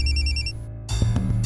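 An electronic phone ringtone trills in a repeating pattern for about half a second, then breaks off into a burst of louder clattering noise.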